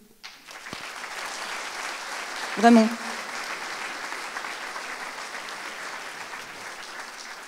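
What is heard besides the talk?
audience applauding themselves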